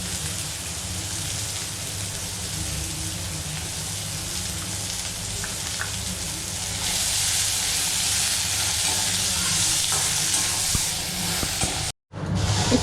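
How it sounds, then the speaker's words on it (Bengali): Chopped onion frying in a pan for egg curry, a dense continuous sizzle like steady rain, close and even, swelling slightly midway, then briefly cut off near the end. "ওই পেঁয়াজটাকে হালকা ভাজা ভাজা করে নিতে হবে।"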